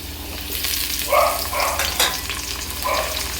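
Chopped papaya and potatoes frying in hot oil, a continuous close sizzle with a few brief bursts of stirring and spatula scrapes; no voices.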